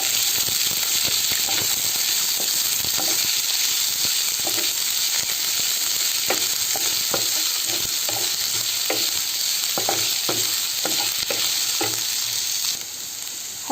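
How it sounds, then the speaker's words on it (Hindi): Onions sizzling steadily in hot oil in a pan while being stirred for an Odisha-style aloo dum, a constant loud hiss broken by regular scraping stirs. "फिर मैं डालूंगी प्याज, इसको तब तक मिक्स करूँगी जब तक कि ब्राउनिश ना हो जाए"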